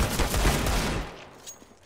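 A dense burst of rapid video game gunfire rattles loudly for about a second, then cuts off into a faint echoing tail with a distant shot.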